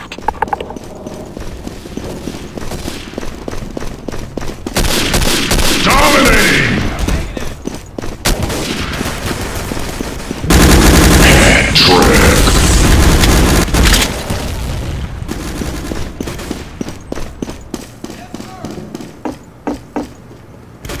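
Machine gun bursts in the World War II shooter Day of Defeat: Source, loud rapid rattling fire with booming blasts in two heavy stretches, mixed with other gunshots and game noise.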